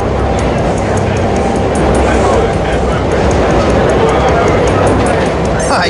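A subway train rolls along in Counter-Strike: Condition Zero, a steady loud rumbling and rattling of the carriage with constant clatter and no pauses.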